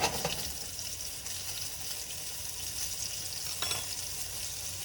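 Pork cutlets sizzle and fry in a pan right after being flipped, a steady close crackling hiss with brief louder spits and no talking.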